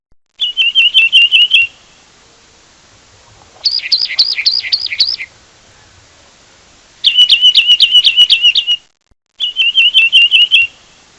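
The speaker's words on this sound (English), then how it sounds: "Wren." Wren song in four loud, close bursts of rapid trilling, high-pitched notes, each lasting about a second or two, separated by quiet gaps.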